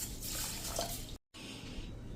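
Rice mixed with split moong dal is washed in water, giving quiet swishing and dripping sounds that stop briefly before the sloshing resumes.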